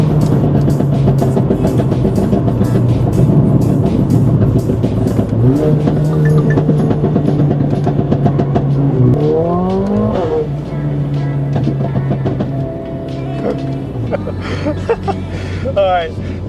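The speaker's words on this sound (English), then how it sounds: "when you hear the downshift, man, see the crackles and pops" A tuned AMG CLA45s with a Veleno performance exhaust drones loudly under acceleration, then its pitch shifts through downshifts, with crackles and pops over the engine and a person talking over it.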